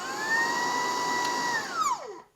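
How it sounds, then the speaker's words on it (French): A Dreame R20 cordless stick vacuum cleaner runs with a steady high whine, close and loud, then spins down as the trigger is released, its pitch sliding away to silence. "Je peux choisir que l'aspirateur ne fonctionne que lorsque j'ai le doigt appuyé sur la gâchette."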